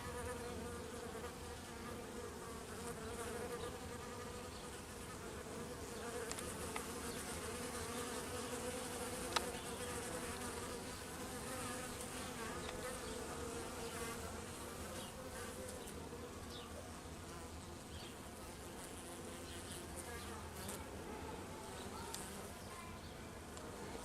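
Honeybees forage at a hive entrance in November, a dense, continuous buzzing of many insects close by, with a faint voice in the background.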